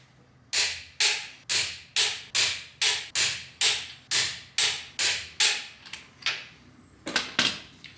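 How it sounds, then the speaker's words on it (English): Torque wrench tightening the wheel nuts on a crash-repaired Audi A3 Quattro to 90 foot-pounds, heard as about a dozen loud, evenly spaced rasping strokes close by, each fading quickly, with a few faster ones at the end. "we're going to torque them up just in case we end up driving it"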